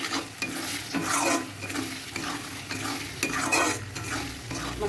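Masala with Kashmiri red chili powder fries in oil in a pan while a spoon scrapes and stirs it in repeated strokes, a close, loud rhythmic sizzle without talking.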